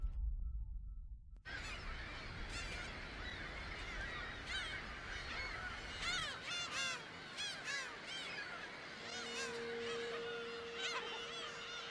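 Summer migratory birds crowd Gujido island in the West Sea, a dense chorus of honking and cackling calls from many birds at once, loud and continuous, with one long steady tone joining near the end.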